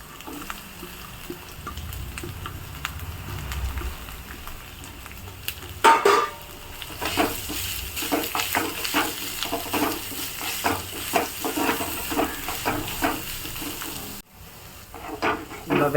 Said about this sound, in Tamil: அந்த வாசனை வர வரைக்கும் கொஞ்சம் அப்படியே பொறுமையாக சிம்மில் வச்சு வதக்கலாம்.